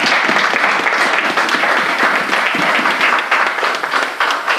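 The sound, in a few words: church congregation applauding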